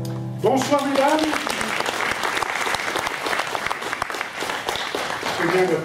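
Applause from an audience at a student comedy and song show, a dense, steady clatter of clapping that swells and carries through almost the whole stretch, with a brief voice near the start.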